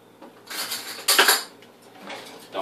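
A metal spoon scrapes thick casein ice cream made with crushed ice into a bowl, a couple of close, loud scraping and clinking strokes with brief pauses between.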